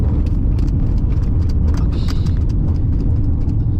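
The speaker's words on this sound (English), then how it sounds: "there's just some rattles there at the back" Road noise rumbles inside a moving Chery Tiggo 8 Pro Max on gravel while light, irregular rattles tick and clatter from the back of the car, continuing throughout.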